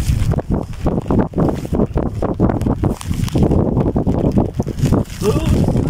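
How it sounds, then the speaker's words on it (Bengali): Strong wind gusts buffet the microphone beside a wetland where fish are being caught, in rough, uneven bursts, rising and falling in loud low rumbles. "ঝটকা বাতাস।"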